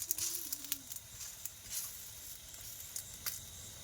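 Paratha fries in a pan with a steady soft sizzle and bubbling, punctuated by faint spatters and a brief high squeak, close and quiet with no talking.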